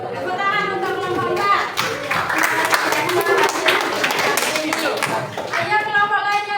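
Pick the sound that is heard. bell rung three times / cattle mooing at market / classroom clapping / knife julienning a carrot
classroom clapping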